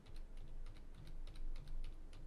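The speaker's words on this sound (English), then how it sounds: "just by pressing down the keys in your keyboard, 2, 1, 2, 1." Rapid key presses on a computer keyboard, a steady run of light clicks and taps close to the mic with a faint background hum.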